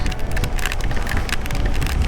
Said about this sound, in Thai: ฝนตกมาแล้วทุกคน โอ้โห ตกหนักซะด้วย